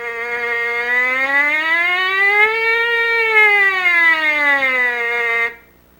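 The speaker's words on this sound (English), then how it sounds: "take your mouthpiece and buzz a siren, up and down, as smooth and as slow as possible with a fat and rich sound" A trumpet mouthpiece is buzzed alone as a smooth siren, one slow continuous tone that glides up, peaks in the middle and sinks back down, fat and rich with strong harmonics, then stops abruptly.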